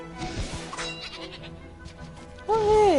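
Sheep bleating in the video game Ni no Kuni: Wrath of the White Witch, with several quick cartoonish bleats over game music, then a loud drawn-out wavering bleat near the end.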